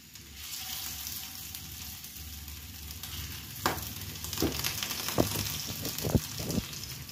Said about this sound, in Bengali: পকোড়ার মতন এটাকে ভেজে নেওয়া হচ্ছে চিলি চিকেনে।